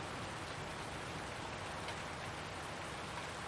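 Steady rain falls in Farming Simulator 19 while a tractor heads out to spread manure, a constant hiss of drops filling the scene at even loudness throughout, with no voices.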